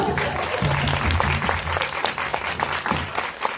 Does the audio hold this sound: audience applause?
yes